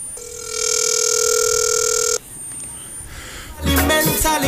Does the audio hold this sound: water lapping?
no